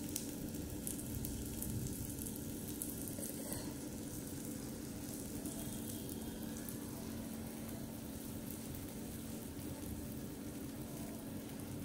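Oil sizzles steadily in a small miniature pan, poured for frying Konaseema-style masala brinjal (vankaya), a constant soft hiss that runs unbroken and fairly quiet, with no voices over it.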